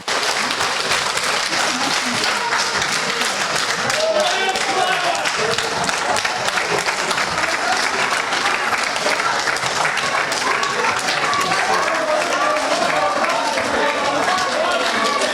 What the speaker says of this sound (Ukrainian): присутня молодь їх супроводжувала оплесками